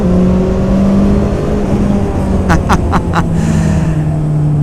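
A 2021 Honda CB650R motorcycle engine on a race track, a loud steady droning engine note under rushing wind, with a few sharp short clicks partway through.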